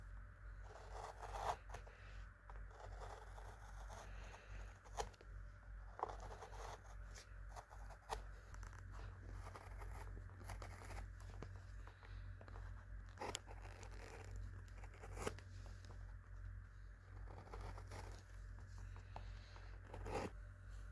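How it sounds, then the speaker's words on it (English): A skiving knife pares sole leather flat for a shoe heel, producing quiet, scattered scraping and slicing strokes at irregular intervals over a low steady hum. "skive it as flat as I can get it using the skiving knife again"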